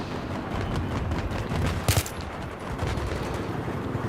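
Dense, continuous gunfire from the PS3 shooter Battlefield 3, rapid automatic bursts layered into a steady fusillade with one sharper, louder shot near the middle, no talking over it.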